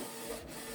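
A Canon Pixma TS3355 inkjet printer prints an alignment sheet, a short, quiet mechanical whir and rubbing feed with no voices.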